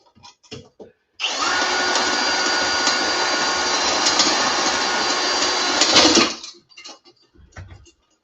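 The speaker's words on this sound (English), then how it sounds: "Pop rivets are very annoying there. You gotta drill out the centers of them" A power drill whirs continuously for about five seconds, drilling out the centers of pop rivets, loud and close, with brief scraping and clicking noises before and after.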